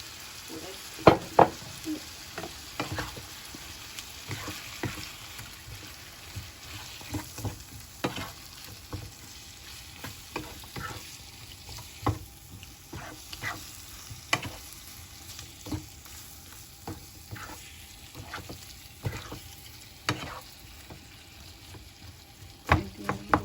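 Vegetables sizzling in olive oil and a little coconut milk in a pan for coconut curry chicken, a soft continuous fry broken by frequent clicking and tapping stirs from a utensil at an irregular pace, fairly close, with no talking.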